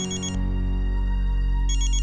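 A telephone ringtone plays loudly and close, a sustained electronic tone with a brief warbling chime at the start and end, lasting about two seconds.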